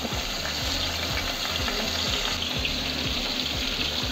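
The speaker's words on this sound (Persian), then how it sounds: "و گوجه رو به تابه اضافه میکنم. بذارید کاملا گوجهاتون سرخ بشه." Tomato frying in a pan gives a dense, loud, steady sizzle, with faint stirring scrapes underneath and no voices.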